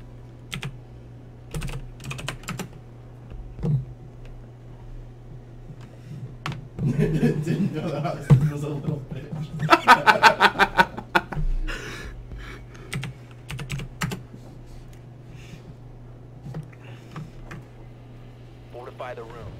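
Bursts of typing on a computer keyboard, quick clustered clicks close to the mic with a steady hum beneath, while someone talks and chuckles over online game sounds from Tom Clancy's Rainbow Six Siege.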